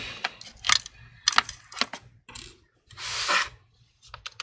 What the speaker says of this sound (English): I'll be using a Phillips screwdriver. Let's go ahead and remove the screws.